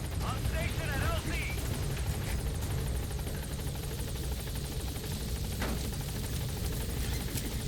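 The Pequod helicopter in Metal Gear Solid V approaches a landing zone with a steady, close rotor drone and whine, while radio voices talk over the engine noise.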